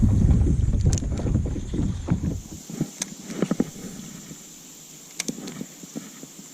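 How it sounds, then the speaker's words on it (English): Strong wind on a reservoir during bass fishing from a boat, with heavy low rumbling buffeting for the first few seconds that eases into softer gusts and scattered knocks. "There's no real place to get out of the wind in this reservoir"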